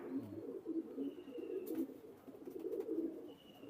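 Several Teddy pigeons coo in soft, repeated low rolling calls, close and continuous, with a faint high whistle in the background.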